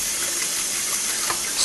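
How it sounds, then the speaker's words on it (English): Tap water gushes steadily into a kettle being filled for rinsing, a close, loud and even rush of running water with no one speaking. "you need to make sure you rinse the kettle thoroughly."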